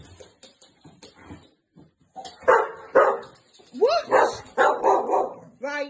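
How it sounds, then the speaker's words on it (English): A Staffordshire Bull Terrier puppy barks up close in a run of loud, high yaps and whiny barks, with a person speaking briefly in between. "Don't bark at me."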